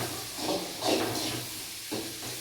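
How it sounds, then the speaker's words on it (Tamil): Onion, tomato, ginger and garlic sautéing in hot oil for a simple two-egg rice dish, a soft close hiss rising in short swells as the pan is stirred, no talking. "வெங்காயம் தக்காளி இஞ்சி பூண்டு இதில் வந்து நானே கொட்டி வதக்கிடுவேன்"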